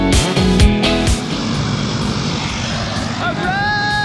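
A skydiving jump plane's engine roars loudly and steadily up close, with talk over it at the start and a whistling whine near the end.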